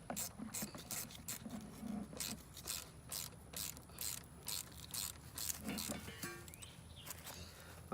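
Tightening a bolt on a kids' 800-watt electric ATV: a quick, rhythmic ratcheting click repeats many times, close and faint, with light metallic handling noises toward the end.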